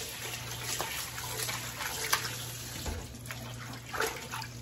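Water runs steadily from a tap while vegetables are washed, a continuous mid-level splashing flow with small irregular bumps of handling, heard alone without talk.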